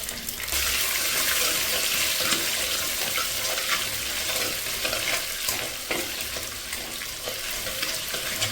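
Shallots, curry leaves and chillies fry in hot oil for a Kerala-style sadya rasam, giving a close, continuous hissing sizzle with scattered pops and stirring scrapes across the whole stretch.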